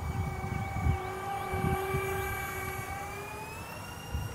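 A Dynam Turbo Jet Twin 64mm electric ducted fan RC jet throttles down over a grass field, its whining turbine-like tones sliding slowly lower and steady in the distance, over a low rumble of wind.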